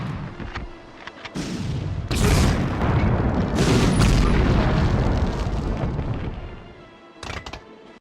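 Rocket launcher explosions in the PS1 game Medal of Honor: a run of heavy, rumbling booms that swell and sustain loudly for several seconds, then ease off before a final sharper blast.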